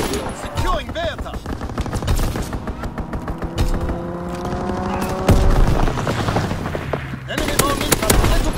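Rapid gunfire from an aircraft strafing run in the video game Call of Duty WW2, loud and sustained with booming impacts and game voice callouts layered over the action.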